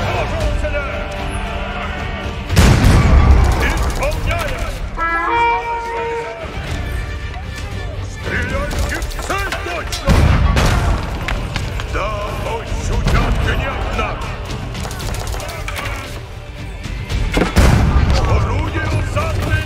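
Cannon fire and battle noise during a castle siege in the video game Age of Empires IV, with several heavy booms, clattering impacts and scattered game effects under near-constant talking.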